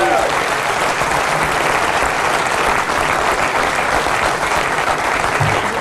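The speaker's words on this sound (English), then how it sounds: "give him applause. Come on, guys." Loud, sustained audience applause fills the room after a pool trick shot sinks the 8-ball in the corner pocket, a dense steady roar of clapping with voices mixed in.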